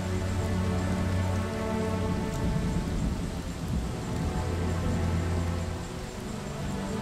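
Steady rain patters on a surface, a dense, continuous wash of droplets under a low, constant rumble.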